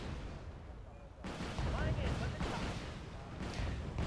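Cannon fire aimed at Su-27 Flanker jets in Wargame: Red Dragon, a run of heavy booming gunfire bursts that swell after a quieter opening, under a man's speech.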